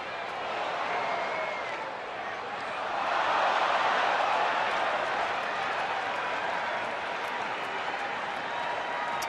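A baseball stadium crowd cheers and applauds during a Toronto Blue Jays at Texas Rangers game, a broad roar that swells in the middle and stays steady, with commentators talking over it.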